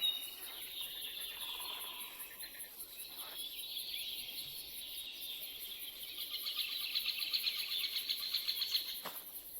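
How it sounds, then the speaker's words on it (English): Quiet, continuous ambient bird chirps and calls in the Minecraft video game, modded with dinosaurs, form a soft, steady background with no talking. "You can hear all the birds making their weird noises."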